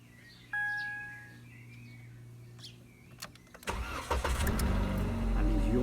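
A Jeep Renegade is started during a home front brake pad job: a brief electronic chime and quiet clicks, then the starter cranks and the engine catches into a loud, steady idle close by.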